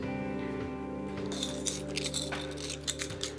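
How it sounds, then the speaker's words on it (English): Keys jingle and clink in a few quick shakes, close by, over a low steady hum. "Gonna grab some keys"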